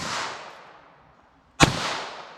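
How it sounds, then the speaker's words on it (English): A single sharp .22 Long Rifle revolver shot firing a Winchester Silver Tip round into a pumpkin, a loud crack after a fading hiss, heard outdoors and alone. "here's our 22 long rifle Winchester silver tip"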